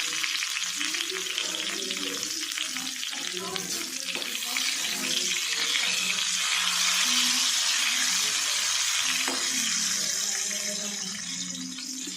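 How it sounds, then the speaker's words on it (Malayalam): Mustard seeds crackle and pop in hot oil for a Kerala sadya koottukari, a steady bright frying hiss with scattered sharp pops close up, while a person talks over it. "ഇത് കടുക് പൊട്ടിക്കഴിഞ്ഞിട്ട് നമുക്ക് ഇത്തിരി വേപ്പിലയും മുളകും കൂടി ഇടാം കേട്ടോ"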